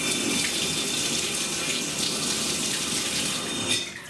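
A running tap pours water over a container as it is rinsed out, a steady close hiss and splash throughout that shifts briefly near the end.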